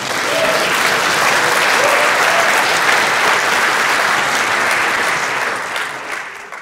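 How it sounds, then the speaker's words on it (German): Sustained audience applause fills a meeting hall, a dense, steady wash of many hands clapping at full strength before tapering off near the end. "der Applaus galt, glaube ich, dir für die schöne Musik von 2001"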